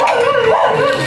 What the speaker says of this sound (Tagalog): May aso dyan ha?